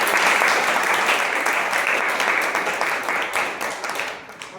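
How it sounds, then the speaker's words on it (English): A room full of people at a Toastmasters meeting applauds, a dense burst of clapping that stays strong and then gradually thins out toward the end. "Can we have a big round of applause for Toastmaster?"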